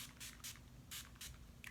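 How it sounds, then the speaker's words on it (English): Urban Decay All Nighter setting spray is pumped in four or five quick, close hissing bursts with short pauses between them, over a faint low hum. "Urban Decay All Nighter Setting Spray."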